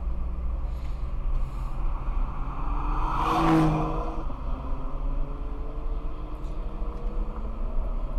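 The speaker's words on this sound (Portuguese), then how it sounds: "tem um carro com muita pressa querendo passar" A car in a hurry comes up from behind to pass on a road in central Brasília, its engine and tire noise swelling to a peak midway and then fading, over steady road rumble with no talk.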